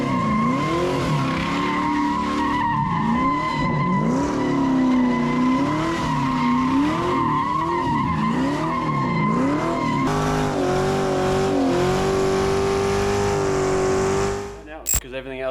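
A car with an LS1 V8 engine does a burnout, its tires squealing continuously in a loud, wavering howl over the roaring engine, holding steady for several seconds before cutting off abruptly.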